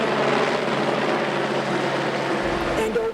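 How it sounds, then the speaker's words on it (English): A helicopter flying overhead above the Mississippi River fills the air with a steady rotor drone, loud and continuous, with faint voices murmuring underneath. "overhead, a helicopter flies by"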